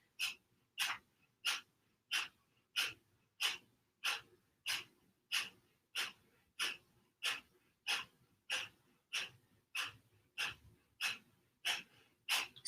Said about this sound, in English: Breath of fire is a fast exhale, bringing the navel in.